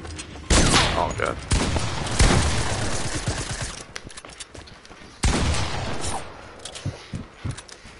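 Loud video-game gunfire breaks out in sharp bursts and rapid volleys, with short pauses between them and a player's voice talking over the action.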